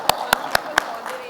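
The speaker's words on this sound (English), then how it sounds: "So, a good round of applause for our panelists," An audience at the AISS 2024 Pulse panel session claps for the panelists, with four sharp, evenly spaced claps standing out clearly over light background murmur.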